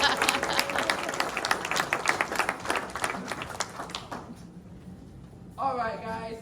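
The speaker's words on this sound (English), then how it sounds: "let's give them a big round of applause" An audience at an FFA banquet claps for a few seconds, a dense, lively patter of many hands that thins out and stops. A voice then speaks over a faint hum.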